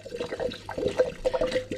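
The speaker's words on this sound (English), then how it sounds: "I'm basically just going to take this and I'm going to pour it" Homemade maple flower herbal liquor infusion being poured from a container into a jar, a steady trickling and splashing of liquid with uneven glugs, close by and without talk.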